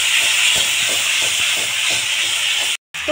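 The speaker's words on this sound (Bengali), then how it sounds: "মশলাটা একটু কষিয়ে নেব।" A spice paste of ginger, cumin and green chilli fries in a pan with fried peas for a vegetarian lau dal. It gives a loud, steady hiss and sizzle throughout, with faint stirring knocks underneath, before a brief dropout near the end.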